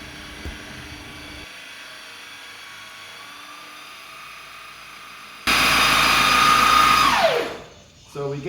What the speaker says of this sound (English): So we get to where the drill bit is inside the chamber